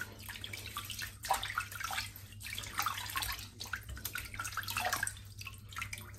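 Water splashes and trickles as a head is wetted before a razor shave, irregular bursts of liquid sound close by over a low steady hum, with no talking.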